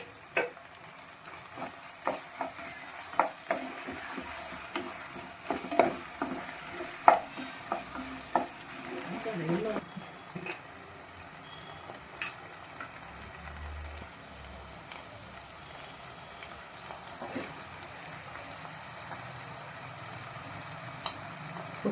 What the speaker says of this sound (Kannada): ಇವಾಗ 1 ಸ್ಪೂನು ತುಪ್ಪ ಆ್ಯಡ್ ಮಾಡ್ಕೊತಿದ್ದೇನೆ.